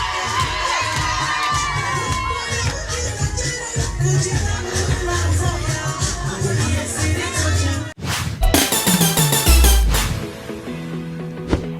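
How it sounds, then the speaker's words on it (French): Audience at a beauty pageant claps and cheers loudly, with high children's shouts mixed in, in a sustained roar that breaks off and then surges again near the end. "Alors, les applaudissements,"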